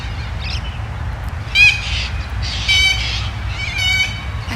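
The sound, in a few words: many birds calling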